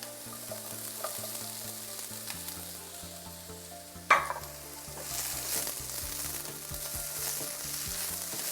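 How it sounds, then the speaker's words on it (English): Onion, carrots and ginger sizzle and fry steadily in a hot pan, with a bright stirring clatter midway and a continuous crackling hiss throughout. "I can see the onion caramelizing here"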